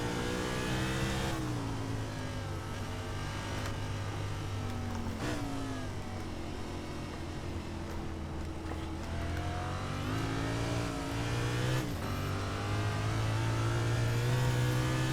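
A stock car engine in a racing game circling Imola revs hard and climbs through the gears, with abrupt shift drops and throttle blips on downshifts, loud and continuous for the whole stretch.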